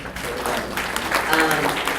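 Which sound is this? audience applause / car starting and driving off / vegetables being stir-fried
audience applause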